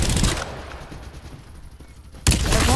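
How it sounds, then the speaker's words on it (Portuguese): Gunfire in the video game Farlight 84 comes as loud sharp bursts at the start and end, with a quieter stretch between them. "toma esse tiro de sniper"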